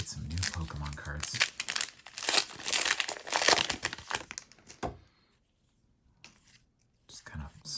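Scarlet and Violet Pokémon booster pack wrappers crinkle and crackle close up in quick, busy bursts for about five seconds, then a pause and a brief soft rustle near the end; a voice whispers at times.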